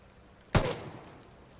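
M16 rifle in the video game Ghost Recon Wildlands fires a single sharp, close shot, followed by a short fading tail.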